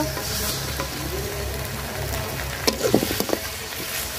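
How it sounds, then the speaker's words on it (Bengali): Spice paste frying with browned onions in a pan for a duck curry, a steady sizzle with a few scraping stirs near the end, close and alone. "তো মশলাটা সুন্দর করে ভাজা নেই।"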